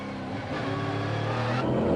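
A Chevy Camaro Transam race car with a 5-litre engine roars close up as it races, its engine note rising and revving hard throughout, with no talk.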